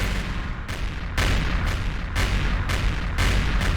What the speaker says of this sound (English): You're gonna hear those flak cannons. Ah, what a racket they make